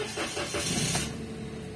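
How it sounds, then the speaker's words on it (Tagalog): A Toyota Wigo with a check-engine light and misfire fault cranks and catches, a short starter whir turning into a steady mid-pitched engine hum that continues at a moderate level without talk. "itatry ko na siyang paandarin ngayon"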